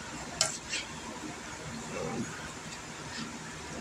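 Casserole mix of green peppers and red onions stirred in a bowl, a soft continuous scraping and rustling with a couple of brief clinks near the start, fairly quiet and close.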